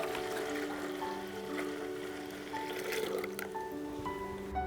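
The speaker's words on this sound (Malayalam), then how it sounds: "ബാക്കി വെള്ളം കൂടെ ഒഴിച്ചു കൊടുക്കാം." Water is poured into a homemade organic pesticide mix of garlic, soap and neem oil, making a steady, continuous liquid rush that runs for several seconds with no talking.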